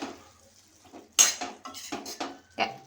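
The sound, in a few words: stirring ridge gourd curry in pan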